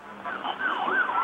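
An ambulance siren wails as it carries a victim from a ferry sinking, its tone rising and falling in a steady sweep that grows slightly louder, alone without talk.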